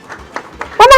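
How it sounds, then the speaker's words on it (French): Applause bursts from an audience at a university award ceremony, a brief loud swell of clapping breaking in at the end after quieter sounds in the room. "Mesdames, messieurs, sous vos applaudissements."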